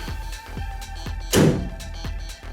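A solid, muffled thunk of a Factory Five Cobra kit car's door shutting lands once midway, close and fairly loud, over a steady mechanical hum with faint rhythmic ticking.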